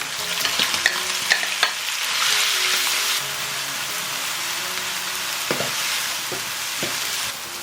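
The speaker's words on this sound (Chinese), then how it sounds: "接着加入酸菜翻炒" Pickled mustard greens stir-fried in a hot wok with minced pork, garlic and sliced chili, a loud steady sizzle broken by sharp scraping clatters of the spatula, close and continuous with no talk.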